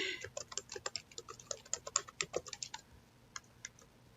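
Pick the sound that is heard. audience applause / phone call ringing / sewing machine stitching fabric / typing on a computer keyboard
typing on a computer keyboard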